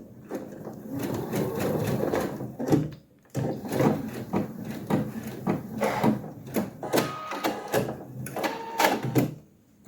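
A domestic sewing machine stitches the back welt pocket of a pair of chinos in short bursts, its rapid whirring runs broken by brief pauses and handling clicks, close and moderately loud.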